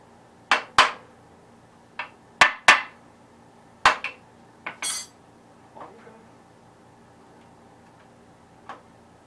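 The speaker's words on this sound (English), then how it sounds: "Heard a washer drop already." A metal washer drops inside a Gravely 818-T tractor's PTO clutch area, producing a series of sharp metallic clinks and taps at irregular intervals, several bright impacts close by followed by fainter ones fading out, with no talk.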